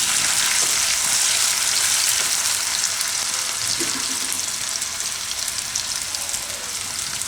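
Green garlic and red chillies fry in hot oil, a steady broadband sizzle that holds level and close throughout, with a few faint clicks from the pan and no voices.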